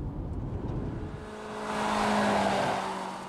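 A Patriot car's engine roars as it accelerates hard toward 100 km/h, starting as a low rumble and rising into a loud, broad whine as the revs climb.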